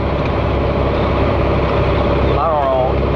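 A small VW 1776 air-cooled engine fitted in a 1969 Baja Bug runs on a test, a steady rumbling idle that holds even and close with a brief high squeal near the end.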